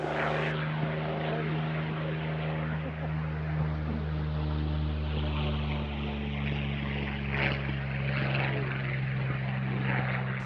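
Yakovlev Yak fighter propeller aircraft, a steady droning piston engine with strong low harmonic hum, continuous and fairly loud, with a narrating voice over it.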